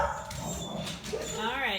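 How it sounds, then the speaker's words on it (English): Household dogs barking and yipping in short, excited bursts mixed with whimpers, mid-distance, while a person talks over them. "That's our dogs."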